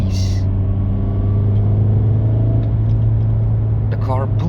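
A VW Jetta with a violent pull to the right drives down the road, its engine and tyre rumble steady from inside the car, with a brief throttle swell near the end.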